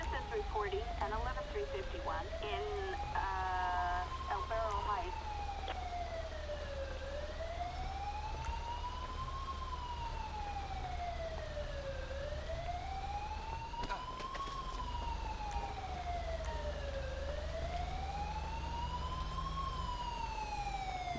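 Wailing ambulance siren in the GTA V LSPDFR police mod, sweeping steadily up and down in long repeating cycles and holding loud over a constant low rumble of traffic throughout.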